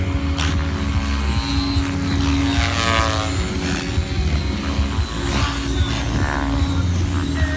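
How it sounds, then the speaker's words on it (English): A steady droning engine with a whirring rotor buzz from a model helicopter flying nearby at a demonstration display, continuous with rising and falling pitch sweeps. "there's a good chance Rob's going to lose a model over this little flight."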